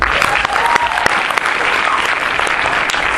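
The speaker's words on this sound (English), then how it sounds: "You may be seated with the hand clap." A church congregation claps together in a dense, steady wash of applause that holds at full strength from start to finish, with a few sharper individual claps standing out.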